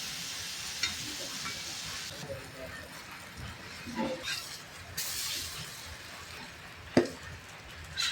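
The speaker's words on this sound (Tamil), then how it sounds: "அப்போ தான் கொஞ்சம் நல்லா வேகும், நல்லா ஃப்ரை ஆகட்டும்." Brinjal pieces fry in a pan for a masala, giving a steady broad sizzle with a few soft knocks and scrapes as they are turned.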